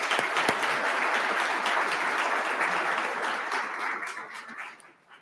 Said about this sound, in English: Let's give these Otterbein students a round of applause